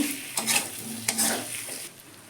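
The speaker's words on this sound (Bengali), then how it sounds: "আলুগুলো দিয়ে দিলাম আলুগুলো দিয়ে কষে নেবো" Parboiled potatoes stir-fried in a pan, a soft sizzle broken by a few scraping stirs of a utensil against the pan, fairly quiet and close, with no voices.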